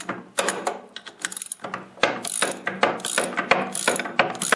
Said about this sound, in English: grab your ratchet and your socket and get in there and just loosen up all the bolts